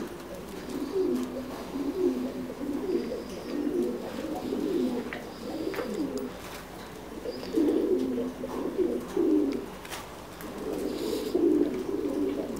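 Thai Titan pigeons on a pigeon farm in Buôn Đôn, Đắk Lắk, coo in steady low rhythmic phrases, many birds overlapping close by against a soft background hiss.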